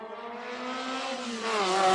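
A Class 10 off-road race buggy on a Jimco chassis, running in the 2001 SCORE San Felipe 250, revs hard with a steadily climbing, buzzing engine note that grows louder near the end, heard alone.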